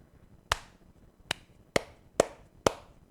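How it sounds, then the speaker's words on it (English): A single person claps by hand five times near the microphone, sharp isolated cracks spaced irregularly across a few seconds against a quiet room. "that's me clapping"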